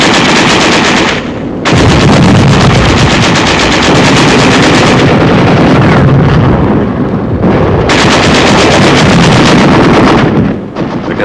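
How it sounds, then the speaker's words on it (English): Loud, continuous wartime gunfire from World War II fighting near the Rhine, with sustained machine gun bursts and heavy booming shell blasts rolling together, a dense, nearly unbroken roar with brief pauses and no speech. "There is some machine gun fire and occasional shells, but little concerted resistance."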